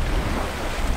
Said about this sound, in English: we're surfing some waves